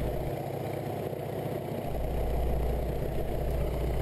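Steady low rumble of a Grumman Wildcat FM-2 fighter's radial engine idling with the throttle pulled back, heard from the cockpit; the drone thickens and grows slightly louder partway through.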